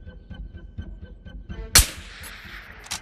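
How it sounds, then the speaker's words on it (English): A single loud sniper rifle shot cracks out in the VR shooter Tabor Legacy. It rings and decays after a stretch of quiet rhythmic background ambience, and a smaller sharp sound follows about a second later. "So I took a deep breath and took my chance with the shot."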